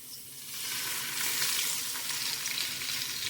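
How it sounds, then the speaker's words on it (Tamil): Half a kilo of onions sauté in about 150 ml of hot oil for Ambur biryani, a loud, steady, close sizzle that swells after the first half second and holds evenly throughout, with no one speaking. "எண்ணெய் ஊற்றி நல்லா வதக்கிக்கிறேன்"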